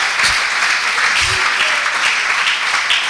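Congregation clapping as an offering of praise during a church service, a dense steady roar of many hands held for the whole stretch, loud and close with a faint voice or two beneath.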